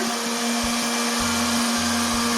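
A cheap popcorn maker whirs steadily once switched on, its small motor spinning with a loud, even hum and a faint rhythmic low thumping underneath, close and uninterrupted.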